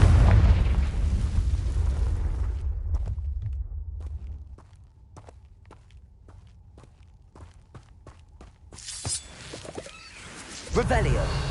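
A Confringo blasting spell in Hogwarts Legacy sets off a deep, rumbling explosion that fades into quiet footsteps and small pops, then another loud burst erupts near the end.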